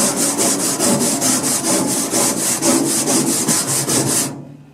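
A wire brush scrubs rust off a rusty steel trailer in steady, rapid back-and-forth strokes, loud and close, a continuous rasping scrape that runs without pause for several seconds before stopping abruptly.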